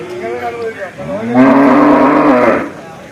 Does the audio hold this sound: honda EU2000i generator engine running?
no